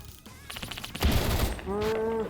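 Rapid bursts of gunfire from the Roblox first-person shooter Phantom Forces ring out loud and close, a fusillade of shots followed by a ringing electronic tone.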